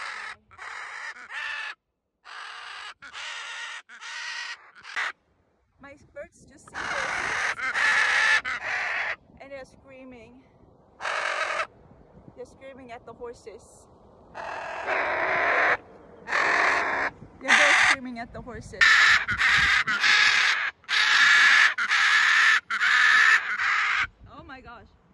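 Loud harsh parrot screeching in repeated bursts close by, set off by nearby horses, some calls stretching for seconds, with brief pauses between volleys.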